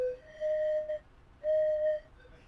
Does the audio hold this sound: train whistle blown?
yes